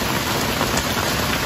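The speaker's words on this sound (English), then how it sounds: "It's a pretty bad thunderstorm." Heavy rain from a thunderstorm on Cape Cod pours down in a dense, constant hiss, loud and close, with no other sounds standing out.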